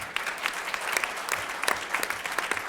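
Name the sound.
audience applause at memorial program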